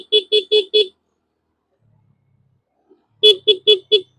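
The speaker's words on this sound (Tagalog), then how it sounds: "Kailangan natin bumusina dito mga idol kasi enchanted yung bundok." Horn of a Honda Beat scooter on a mountain road, sounding two bursts of four short beeps each, loud and close, separated by a quiet gap.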